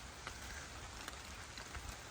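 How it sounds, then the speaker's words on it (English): Rain begins falling steadily on a farm, a dense, even patter spread across the whole clip with occasional slightly louder drops, no voices. "it's starting to rain"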